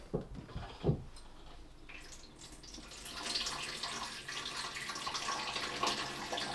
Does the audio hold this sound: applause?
no